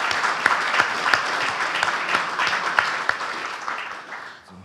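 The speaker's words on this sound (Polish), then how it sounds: "Brawa dla laureata." A crowd applauds an award laureate steadily, dense clapping that holds for a few seconds and then tapers off.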